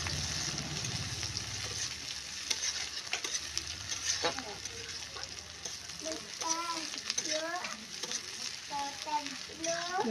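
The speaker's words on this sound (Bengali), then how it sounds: "মশলা এই যে ভাজছি, পেঁয়াজ ভাজছি" Onions and spices sizzle in hot oil in a pan with a steady crackling hiss, punctuated by scraping stirs and clinks, while a voice speaks intermittently over the cooking.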